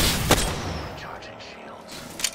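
Gunfire in the Apex Legends video game, with a sharp shot near the start and another burst near the end over a busy mix of game noise and effects.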